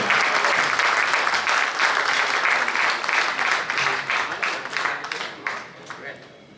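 A crowd at a poetry recital gathering in Toronto applauds loudly and steadily, the clapping tapering off toward the end.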